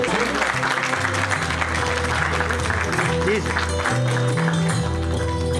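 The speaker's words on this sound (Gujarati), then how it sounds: "આપણે સૌ તાળીઓના ગડગડાટ સાથે" Audience applause at a lamp-lighting ceremony during a Bhavnagar Municipal Corporation event for Atal Bihari Vajpayee's birth anniversary, Good Governance Day. A continuous wash of clapping runs beneath loud, tuneful instrumental music.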